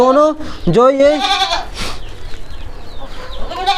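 A goat newly arrived at a farm bleats loudly and close by, two wavering cries near the start, followed by quieter farmyard background with faint bird calls.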